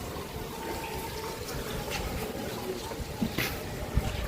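Water runs steadily at a well inside a mosque in Kataragama, a continuous gurgling flow with a few small splashes near the end.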